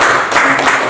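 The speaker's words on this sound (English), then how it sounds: "Can you clap for Sheldon?" A classroom of schoolgirls applauding a student in a chemistry lesson, a short loud burst of dense clapping.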